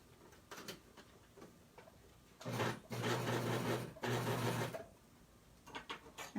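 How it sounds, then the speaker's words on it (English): A sewing machine stitches the hem of a T-shirt dress in two close, steady bursts of motor whir with a short pause between, framed by quieter handling sounds before and after. "I'm going to stitch that far"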